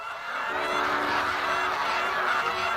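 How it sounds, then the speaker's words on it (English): Ducks in the farming game Everdream Valley honk and quack in a dense, overlapping chorus that sounds like a whole flock, loud and continuous for a few seconds. "How many ducks are there? Are there only one? Because that sounds like there's 50."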